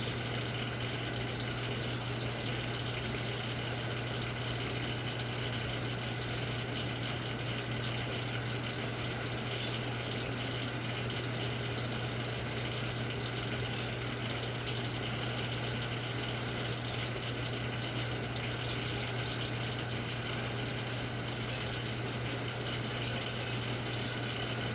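Tap water runs steadily over a Gram stain slide in a lab sink, a constant even rushing hiss at moderate level with no breaks or voices.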